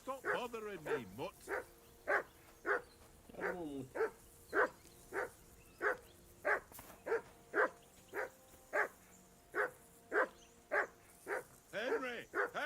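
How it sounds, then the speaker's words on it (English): A dog barks in a steady, regular series of sharp woofs at close range, with a short voiced, whining sound at the start and end. "call off that mutt of yours"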